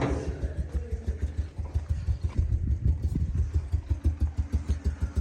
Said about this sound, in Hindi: बाइक मैंने स्टार्ट कर दी है ताकि गर्म हो जाए थोड़ी सी